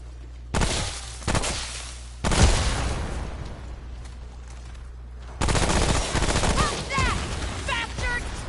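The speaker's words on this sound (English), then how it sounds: "Shooting them at that range with this weapon also is a bit wasteful of the ammo" Bursts of rapid gunfire from a weapon in the video game Remnant: From the Ashes, with loud close volleys separated by pauses and a long sustained burst near the end.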